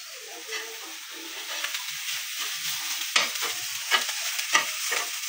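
Rice cooks in a hot pan at home, a continuous soft sizzle with scraping stirs and a few louder crackling bursts, close and alone without talk.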